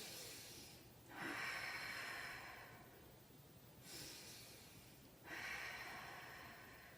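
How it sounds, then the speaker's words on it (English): Two slow, deep breaths taken during a laughter yoga session, each a soft, close airy inhale and exhale rising and falling with quiet gaps between. "let's just finish off with 2 deep breaths."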